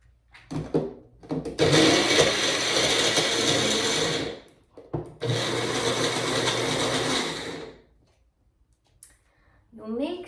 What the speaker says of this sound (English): And when you grind this up,